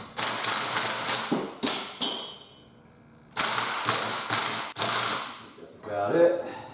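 Ratchet wrench clicking in bursts as it tightens a 36 mm castle nut, drawing the axle into the rear hub of a 2007 Aston Martin V8 Vantage in a small garage; several quick rapid clicking runs with pauses between, close and fairly loud.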